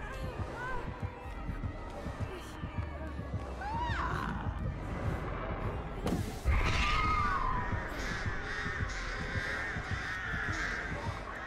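A crow caws a few times in a Dead by Daylight match, sharp calls standing out over steady game ambience and music, with a louder burst midway.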